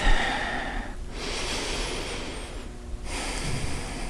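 Slow, deep breaths during a yoga session, close and clear: a long airy exhale, a pause, then another full breath, with no talking.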